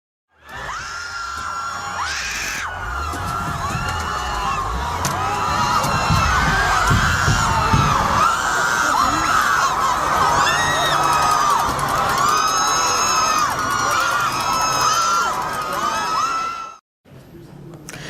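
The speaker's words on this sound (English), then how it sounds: "A protest turned chaotic when a U-Haul truck drove into the crowd." A chaotic protest crowd shouts, screams and cheers continuously as a U-Haul truck drives into it, a dense, loud roar of many voices with whoops rising and falling throughout before cutting off abruptly.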